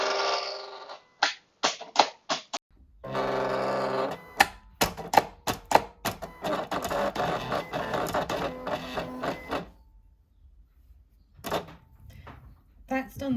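A Silhouette Portrait 3 cutter runs a test cut on vinyl, giving a series of short, sharp clicks followed by a steadier whirring, buzzing stretch of carriage and blade movement, moderately close and alone, then tapering off into a few final clicks.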